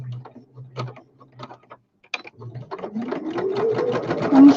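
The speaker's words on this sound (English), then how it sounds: "they call this a chain stitch, which you don't cut it, you just carry on stitching." A sewing machine chain stitches fabric weights, starting after a few soft clicks and handling sounds and building into a close, rapid mechanical whir that speeds up toward the end.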